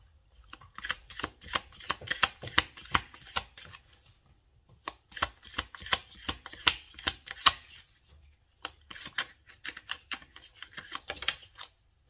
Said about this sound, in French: Attendez, je vais prendre juste une autre carte.